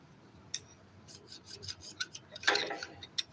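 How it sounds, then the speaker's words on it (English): Gasket scraper dragged across the piston top of a Kawasaki FE290D engine during a rebuild, giving a few short, faint rasping scrapes that build to a louder, longer scrape near the end. "we just kind of go across with the gasket scraper"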